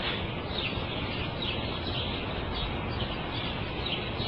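A sparrow chirps in short, light, repeated notes, faintly, above steady background noise.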